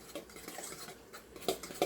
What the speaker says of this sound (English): So I'm going to mix this egg up